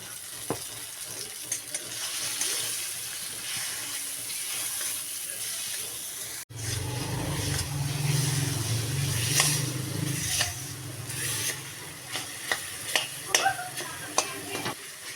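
Raw mango chutney with salt and turmeric being stirred in a pan, a low, steady sizzle with a spoon scraping and clinking against the metal, getting louder partway through, with scattered sharp taps near the end.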